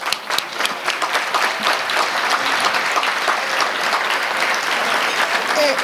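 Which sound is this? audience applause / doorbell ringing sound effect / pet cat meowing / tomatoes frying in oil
audience applause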